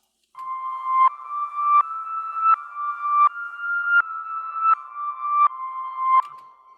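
Reversed synth keys in FL Studio swell into a build-up ambience, a steady tonal pad pulsing in repeated swelling phrases that rise and cut off about every 0.7 seconds, loud and alone, ending with a short fade.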